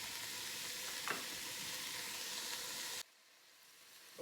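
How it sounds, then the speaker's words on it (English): Onions and garlic sweat in a pan for vegan Cuban black beans, hissing in an even, close sizzle for about three seconds before cutting off abruptly to near quiet. "we're gonna sweat the onions and the garlic for about 5 minutes or so"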